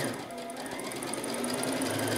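A sewing machine runs continuously, stitching fabric triangles for a quilt block, with a fast, even mechanical whir and needle chatter up close.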